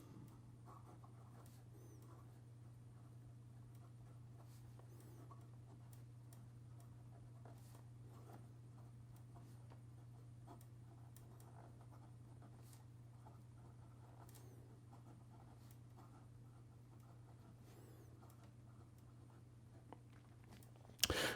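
A Montegrappa Hemingway fountain pen with an 18k gold nib writes on paper, faint close scratches and soft ticks of the nib in an irregular rhythm over a steady low hum.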